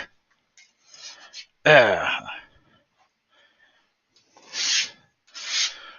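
A diamond brush being scraped clean gives several short, close rasping scrape strokes in separate bursts, with one brief voiced sound mixed into the second stroke and quiet pauses between them.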